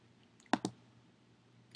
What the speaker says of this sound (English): if you go to the toolbar here and click on paths